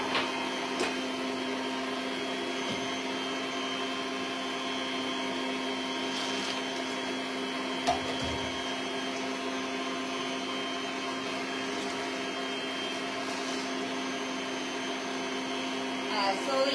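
Electric hand mixer left running on its own in a bowl of egg yolks and sugar, a steady whining motor hum held throughout with faint knocks against the bowl.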